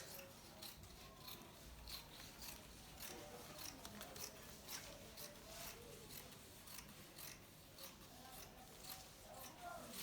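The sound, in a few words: scissors cutting fabric for pencil gown zipper allowance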